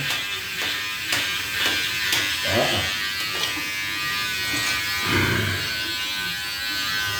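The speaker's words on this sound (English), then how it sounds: "Let me just finish shaving up." An electric shaver buzzes steadily in a bathroom during a shave, close and continuous, with its pitch and texture shifting slightly as it moves over the face.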